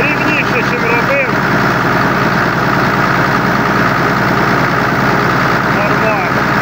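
A John Deere 2264 tractor engine, just started with a spray of ether, runs loud and steady with a rough rumbling drone close by, with voices faintly under it.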